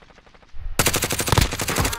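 Rapid automatic gunfire in a shooter video game cuts in loud and close after a quiet start, a dense rattling stream of shots with a soft thud just before.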